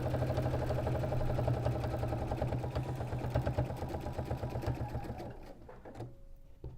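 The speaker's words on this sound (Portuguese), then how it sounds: "Eu vou passar uma costura" A sewing machine stitches around a patchwork triangle block with a continuous, fast, even hum of needle strokes. It slows into a few separate knocks and then stops near the end.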